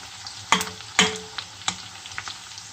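Onion softening in a hot frying pan, a soft continuous sizzle broken by a few sharp scraping stirs, close up and without talk.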